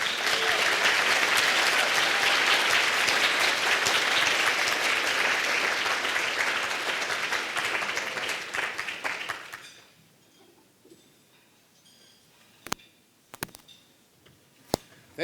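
Loud audience applause for a speaker at a Page Ahead 'A Taste for Reading' literacy fundraiser, sustained for about nine seconds before thinning into scattered claps and silence with a few sharp clicks.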